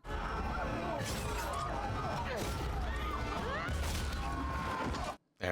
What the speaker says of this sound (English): Somebody's gonna come crashing through one of these windows.